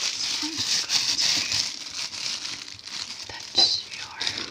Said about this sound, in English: But I have a plastic bag, so